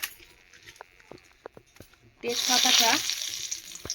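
A bay leaf fries in a little white oil in a kadai, first a few faint clicks and taps, then a sudden loud, close, bright sizzle that holds for about a second before easing.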